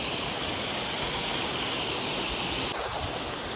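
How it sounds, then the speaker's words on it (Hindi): Mountain spring water flows steadily and close, making a dense, broadband rushing hiss with no voices and no breaks. "हमें मिल गया पानी का स्रोत,"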